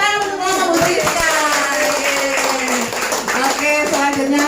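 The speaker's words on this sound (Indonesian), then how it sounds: "Tepuk tangan untuk kelompok Bu Priska" A small group in a teacher training workshop claps hands together, a dense close patter of claps with voices chattering and calling out over it throughout.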